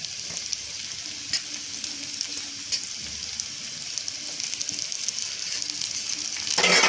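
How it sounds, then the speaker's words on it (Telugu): Onions and capsicum sizzle steadily in a hot pan as a spoon stirs through them, with occasional scraping clicks and a louder burst of frying at the end; no one speaks. "బాగా కలుపుకోవాలండి. కొద్దిగా బాగా ఫ్రై అవ్వాలి అవి."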